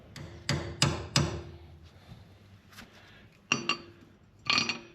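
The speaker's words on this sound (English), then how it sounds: "So just get a screwdriver and hammer and get that thing taken off there." Hammer striking a screwdriver to knock off a sway bar link on a 1986 Buick Grand National, three quick metallic blows, a pause, then two more ringing hits, close and sharp with no talk.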